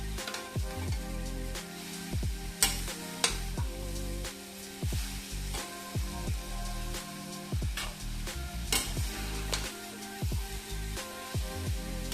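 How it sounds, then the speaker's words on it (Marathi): Sugar is stirred into hot grated fresh coconut in a pan for sweet filling, giving repeated scraping strokes and soft sizzling, a close, uneven rhythm of spoon passes throughout. "आता साखर पण मिक्स करूया लगेच अशी मेल्ट होईल साखर खोबरं गरम आहे ना"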